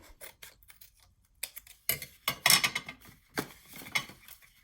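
Scissors cutting off paper at a craft table: a few separate crisp snips and rustles, close and fairly quiet, with short pauses between cuts.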